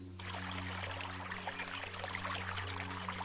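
Stream water flowing steadily past a rock, heard as a continuous, fairly faint rushing wash of moving water with no voices.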